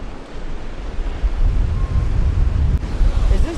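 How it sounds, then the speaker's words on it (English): Waves washing and pushing over the Galveston jetty while fishing in rough, worsening conditions, a steady surf roar with wind buffeting the microphone, continuous and close, with no talk. "That water's starting to come and push over the jetty again."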